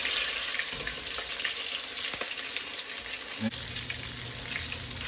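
Crunchy battered boudin balls fry in a shallow layer of grease, giving a steady soft sizzle with a few faint clinks and a brief knock from the pan, quiet and close.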